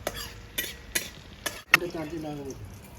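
Cumin and a dried red chili hit hot oil in a pan, a few sharp metallic taps of a spatula followed by a brief crackling sizzle, close and clear.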